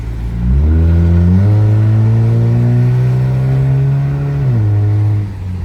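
A car engine nearby revs up in steps to a loud, sustained drone, holds the pitch for several seconds, then drops back toward idle.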